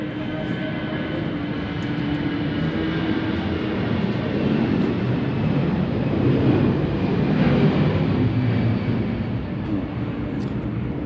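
An airplane at an airport beside an air museum produces a broad, steady roar that swells gently and fades again, heard from a moderate distance with continuous wind-like rumble.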